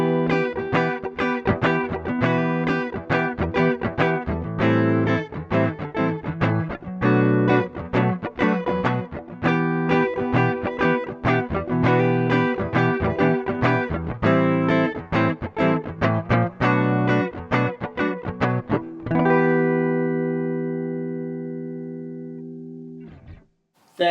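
A driven electric bass with its preamp engaged at about 2 o'clock plays a steady run of fast plucked notes, then rings out on a sustained final note that fades away.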